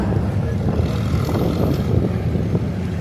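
A 1949 Farmall M tractor roars under load at an antique tractor pull, a loud, dense, unbroken engine rumble with crowd and arena noise mixed in, steady across the whole stretch.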